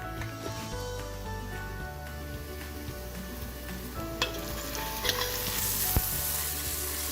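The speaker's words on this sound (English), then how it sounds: "So as you can see, the onions are browning really well." Onions frying and caramelizing in a pot for a Pakistani beef shank nihari, with a steady close sizzle and a few sharp clinks and scrapes near the end; no talking.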